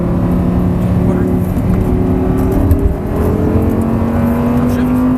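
An Audi R8 driven on a track, its engine holding a loud, steady drone that climbs gradually in pitch under acceleration, with an instructor's voice talking over it throughout.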